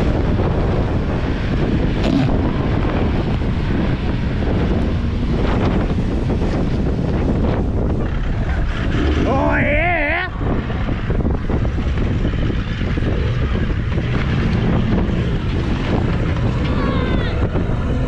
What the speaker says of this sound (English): It was a very windy day